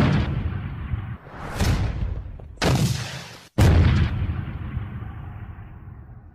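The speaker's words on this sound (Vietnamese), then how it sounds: "Tiếng B-40 nổ khá gần cùng hàng loạt tiếng nổ của tiểu liên AK nổ liên thanh" Close, heavy battle noise: a B-40 rocket blast and sustained automatic bursts from AK rifles, loud roaring explosions and rattling fire that break off and return several times, with no voices.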